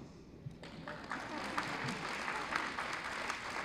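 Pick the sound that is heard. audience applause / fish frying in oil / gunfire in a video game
audience applause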